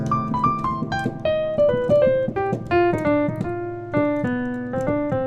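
A melodic instrumental line moves stepwise through a C melodic minor scale over sustained half-diminished chords, notes plucked in a steady flowing rhythm with no voices.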